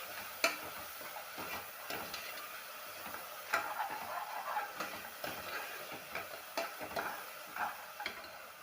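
Ginger garlic paste is stirred and sautéed in a pan for a vegetable biryani, with soft sizzling under a scattering of light scraping and tapping strokes.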